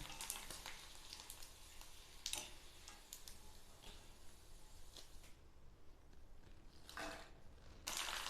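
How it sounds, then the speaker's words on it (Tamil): Rice kanji vatthal crisps, homemade sun-dried rice crisps, fry in hot oil with a soft, continuous crackling sizzle and occasional louder pops, quiet and without talking. "இப்போ வத்தல் வறுத்துக்கலாம் வாங்க பார்க்கலாம்"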